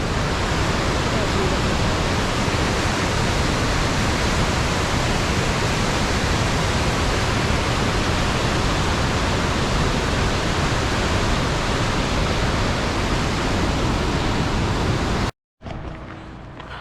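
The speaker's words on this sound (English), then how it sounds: "It was the North Fork of the Stanislaus River." Steady rushing water of the North Fork of the Stanislaus River roars continuously and loudly, a dense broadband wash that cuts off abruptly near the end.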